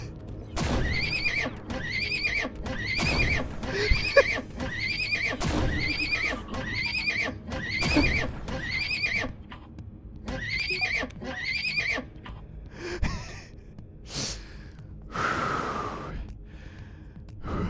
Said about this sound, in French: Ce n'est qu'une arme qui fait un bruit de cheval à chaque fois que ça tire.